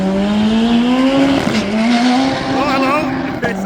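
Drag racing cars launch down the strip, engines screaming loudly with tire squeal and a rising pitch as they pull away, while a voice speaks over the roar.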